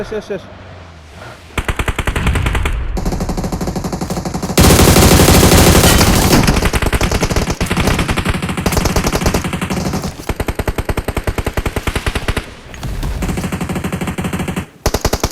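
Heavy automatic gunfire in a battle royale mobile game, long rapid bursts that hammer loudly almost without pause, broken by a few short gaps, with players calling out over team voice chat.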